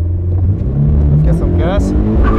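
A drift car's engine revs up as the driver gives gas, a loud, steady motor drone with people talking over it.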